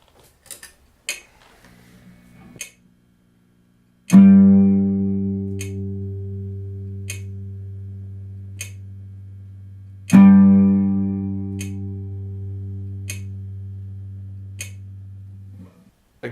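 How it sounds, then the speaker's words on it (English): A sustained instrument note rings out twice, each time decaying slowly over about six seconds, against a steady metronome click at a slow tempo. A few quicker notes are played first, and there is no talking. "the most logical extension of this exercise is to play whole notes as well as quarter notes"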